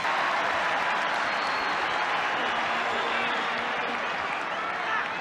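Sustained applause and cheering from a rugby league crowd at a 1998 Canberra versus Canterbury match, a broad wash of clapping that stays loud throughout and eases slightly near the end.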